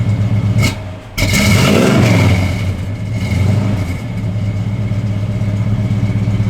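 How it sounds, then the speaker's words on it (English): A 1972 Chevrolet Chevelle SS engine blips once, then revs up hard to a loud, throaty roar and settles back into a rumbling, uneven idle close by. "Give it a little rev."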